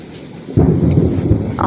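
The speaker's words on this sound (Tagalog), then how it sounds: "Parang malakas pa ang ulan, ano?" Heavy rain pours steadily while a loud, low thunder rumble swells in partway through and rolls on to the end, with no voices over it.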